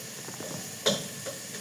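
A loose handle on a cooking pot is screwed tight, giving one sharp metallic click-rattle near the middle of a few soft mechanical creaks, close up over a faint steady hiss.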